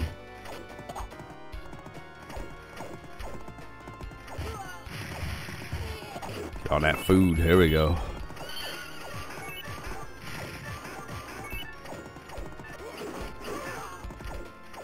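Horse neighs and clattering hoofbeats from the 1991 arcade game Knights of the Round, mixed with game music and clashing hits, with a louder burst of crashes midway; a voice talks briefly over it.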